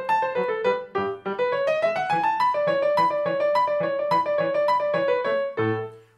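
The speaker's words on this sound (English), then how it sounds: "If it were a 2-bar phrase, it might sound something like this." A short two-bar musical phrase plays as a run of clear pitched notes, rising and then holding a steady line before a low final chord, loud and alone.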